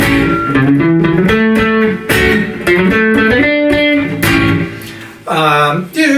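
A loud, gritty electric guitar plays a bluesy 12-bar blues riff with pentatonic bending notes and effects-laden tone, steady and continuous before a brief pause near the end.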